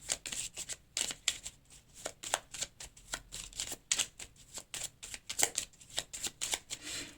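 Tarot cards shuffled by hand in a steady run of quick, crisp riffling bursts, close and fairly quiet, with no talking.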